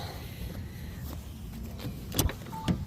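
Power window on a Renault Koleos closing by one-touch, a faint motor whir inside the car that ends in a couple of soft clunks as the glass seats, no speech.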